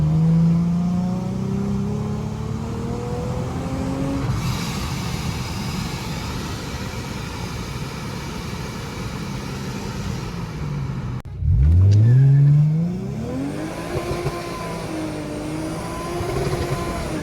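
Supercharged Lexus IS 350 accelerating hard by a warehouse, engine note climbing steadily with supercharger whine, a brief gear change, then pulling and rising again, loud and close.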